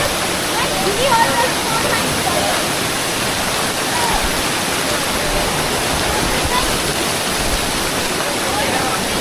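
Heavy water rushes close by near Bhadrakali Temple in Bageshwar, Uttarakhand, a loud, constant roar like a waterfall. A voice speaks faintly beneath it.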